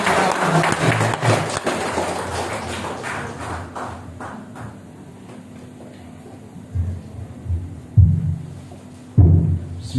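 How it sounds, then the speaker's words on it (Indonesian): Seminar audience in a hall breaks into enthusiastic clapping, loud and dense at first, then thinning into scattered claps before a few louder bursts near the end. "kami beri aplaus dulu yang meriah"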